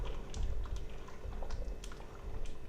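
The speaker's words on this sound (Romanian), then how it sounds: "Amestecăm." Plum jam with little sugar, flavoured with vanilla essence, bubbles and is stirred in a pot after long boiling, making a faint, continuous soft patter and gurgle with no voices.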